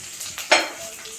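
Chicken pieces dropped one by one into hot oil in a pan for green pepper chicken, giving a short burst of sizzling with light stirring and a soft clink, close and fairly quiet.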